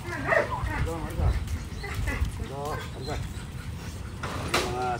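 Several dogs, including Belgian breeds, bark and whimper in repeated short yelps at close to medium distance, with voices talking over them.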